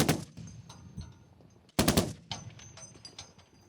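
Bursts of heavy-caliber gunfire ring out nearby at a sniper training range, with a loud volley midway followed by a scatter of sharp individual shots echoing around.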